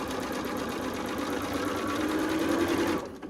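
A sewing machine runs steadily, stitching pieces of fabric for a quilt block, with a close, loud, even mechanical whir that stops abruptly near the end.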